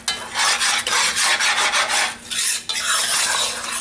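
A Cajun roux being stirred back and forth in a pot, giving rhythmic scraping and rasping strokes repeated continuously at close range, with a faint steady hum beneath and no talk.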